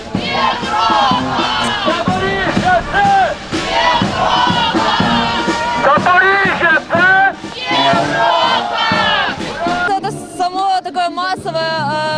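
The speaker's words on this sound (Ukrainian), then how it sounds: "Ось такі гасла всі разом вигукували дякували учасники параду" Parade participants at a Europarade in Zaporizhzhia shouting slogans in unison, loud rhythmic massed chanting with repeated phrases and short pauses, close and full over the whole stretch.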